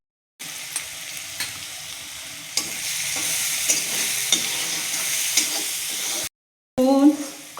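Cumin seeds and garlic sizzle steadily in hot oil with mustard seeds, a dense continuous frying crackle with light stirring knocks, then a brief pause and a louder, bubbling burst of sizzle.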